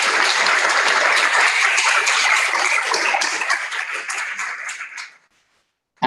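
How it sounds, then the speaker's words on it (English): A crowd at a panel discussion applauds loudly and steadily for about five seconds, then the clapping dies away into silence. "a huge round of applause for our panelists joining us and for applauding"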